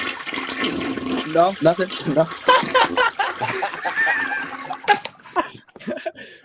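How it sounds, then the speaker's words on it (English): A toilet flush gushes through a noisy stretch while several people chatter and chuckle over the rushing water, the sound mostly buried under their voices. "we're gonna flush it"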